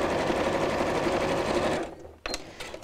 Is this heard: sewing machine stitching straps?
yes